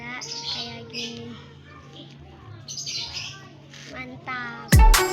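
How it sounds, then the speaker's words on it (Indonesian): Pigeons being herded give off scattered chirps and squawks under a man's close speech, with a sudden loud thump near the end. "Cara mau giringin burung dara kayak gini."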